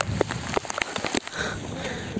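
Rain falling during a hill-fort trek at Irshalgad in Maharashtra, heard as a faint, steady patter with a few scattered louder drops and no talk.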